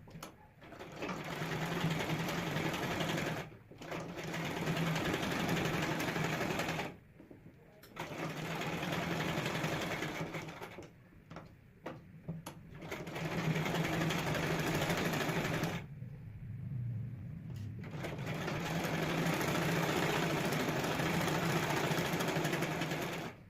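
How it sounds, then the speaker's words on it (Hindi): A sewing machine runs in long steady bursts, stitching along the collar edges of a half-net blouse, with a few short pauses between runs and no talk. "मैं इसकी किनार किनार पर सिलाई लगा दूँगी ताकि ये भाग इस पर अटैच रहे"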